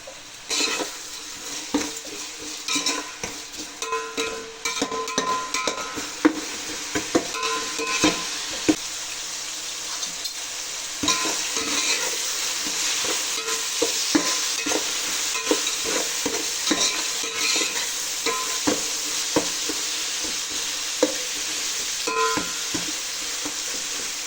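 Rock salt is stirred and roasted in a pan, with a continuous gritty sizzle and frequent scraping clinks of a spoon against the metal, close by and with no talking.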